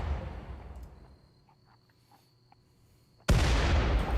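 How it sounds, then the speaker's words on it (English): A grenade blast hits a ship in the video game Rimworld, arriving as a sudden loud, broad burst after a quiet stretch of faint background tones and lingering for about a second. "Tim Hortons, would you be so kind as to grenade the ship?"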